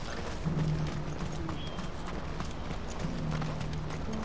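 Chocobo running footsteps while riding in Final Fantasy 16, a steady rapid clip-clop gait at close range with a couple of bird-like calls over a low ambient bed.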